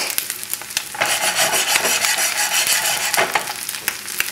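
Corned beef hash fries in a pan over a very high flame, giving a continuous close sizzle with scattered crackling pops and some scraping stirs.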